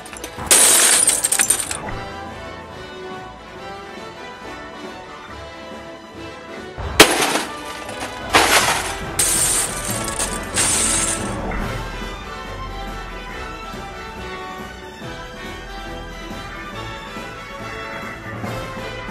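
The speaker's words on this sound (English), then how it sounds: "now that I've broken the glass" Glass from a printer breaks and shatters in two loud bursts of crashing, tinkling shards, followed by quieter clinking and rattling as pieces settle and are handled.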